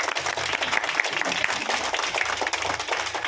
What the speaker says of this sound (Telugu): క్లాప్స్ కొట్టాలి.